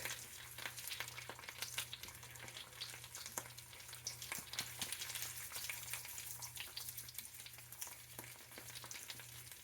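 Potatoes fry in a pan for a Spanish tortilla, a quiet steady sizzle broken by repeated scraping stir strokes over a low background hum.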